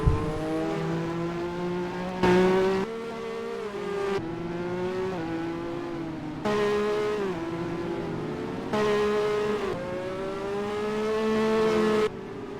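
Formula 1 race cars in NR2003 racing in a Philippines championship event, high-pitched engines whining continuously with repeated gear-shift jumps in pitch and cars passing close, no talking.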